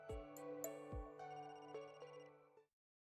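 A telephone in the video game Another Code: Recollection rings as a melodic electronic ringtone, a few bright struck notes ringing together for under three seconds before cutting off, with no voices over it.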